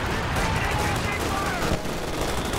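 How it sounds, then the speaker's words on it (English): An artillery counter barrage in Company of Heroes 2 lands as a dense, continuous rumble of booming shell impacts and rapid gunfire, loud and unbroken throughout. "I'm gonna counter barrage here."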